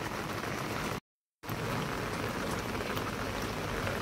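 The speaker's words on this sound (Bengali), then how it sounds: "প্রচুর বৃষ্টি আজকে।" Heavy rain pours steadily on a rooftop, a dense, loud, continuous wash of drops broken only by a brief dropout of silence near the start.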